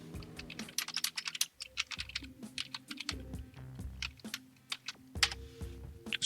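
Rapid, irregular clicking of a computer keyboard being typed on, close and fairly clear, with bursts of keystrokes and brief pauses and no speech.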